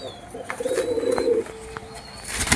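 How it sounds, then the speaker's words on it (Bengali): Newly acquired pigeons coo up close, a drawn-out throaty call followed by a shorter one, with a few clicks and a rustle at the end and no talk. "দেখুন পায়রাগুলো দেখুন শুধু"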